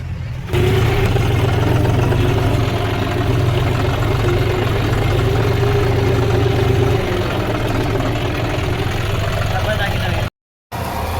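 Tractor engine idling outdoors, a steady, loud low rumble running continuously with a brief dropout near the end, with voices talking over it.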